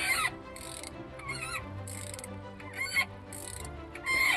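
A part on a Nissan Patrol with an RD28 diesel engine gives repeated high, chirping squeaks while being unscrewed, several short rhythmic bursts close by over faint background noise.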